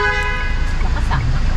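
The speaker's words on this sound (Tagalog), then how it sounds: "Busina po." A GAC Emzoom car horn sounds as a single steady toot, loud and close, lasting most of a second before fading into engine and street noise.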